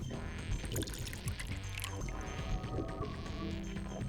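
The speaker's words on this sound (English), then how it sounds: "Alright, let's pour the saline solution in here." Saline solution poured into a funnel above a beaker in the puzzle game Virtue's Last Reward, heard as a close continuous liquid gurgle and splash with small bubbling pops, steady for the whole few seconds.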